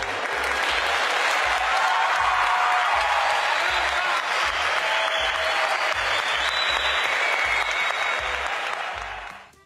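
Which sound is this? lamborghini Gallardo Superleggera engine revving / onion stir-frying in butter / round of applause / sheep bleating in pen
round of applause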